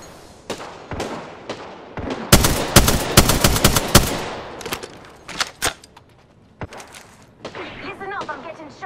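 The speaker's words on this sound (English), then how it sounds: "Listen up, I'm getting shot at." Rapid bursts of automatic gunfire from an Apex Legends battle crack out loud and close, with dense volleys in the middle and scattered single shots afterward, mixed with game voice lines.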